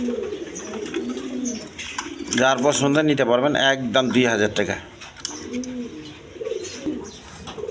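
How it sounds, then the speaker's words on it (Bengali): Healthy, quality pigeons cooing in soft, rounded calls, loudest in the middle stretch, while someone talks over them for most of the clip. "একদম সুস্থ সবল কবুতর কোয়ালিটি সম্পন্ন কবুতর"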